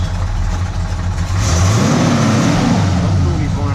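A 1970 Plymouth Road Runner pulls away to circle the block, its engine rumbling close and loud, then building into a rising rev as it accelerates off.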